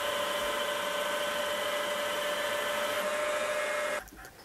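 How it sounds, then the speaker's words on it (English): A drill boring a hole pattern into a cast iron drive sleeve held in a vise, giving a steady close mechanical whine with a sustained tone that cuts off near the end. "I'll pop it in the vise and drill the same hole pattern. As it turns out, it's made of cast iron and it drills really nicely."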